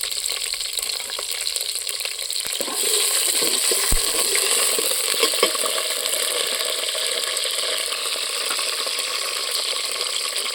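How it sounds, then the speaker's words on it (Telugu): Hot oil crackles and sizzles steadily as green chillies, cardamom and cinnamon fry over a wood-fired stove, with a few sharp pops and clinks from a utensil stirring the pan. "పచ్చిమిర్చి వేగిన తర్వాత ఉల్లిపాయలు వేసేస్తుంది"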